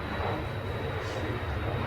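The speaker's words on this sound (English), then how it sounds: "Sorry about the noise, the airport's just round the corner." Steady, faint rumble of an airplane passing near an airport, a continuous low drone with no other sounds.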